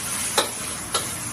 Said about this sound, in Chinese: 现在准备炒牛肉